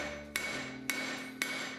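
Three sharp hammer blows ring out on a steel bar forged into a taper, evenly spaced and metallic, over a low steady background hum.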